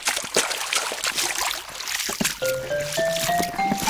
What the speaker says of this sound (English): Your trunk is so good at squirting water.